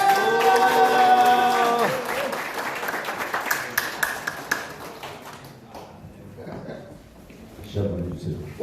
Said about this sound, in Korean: 특강을 여러분의 박수 함성으로 청해 듣도록 하겠습니다.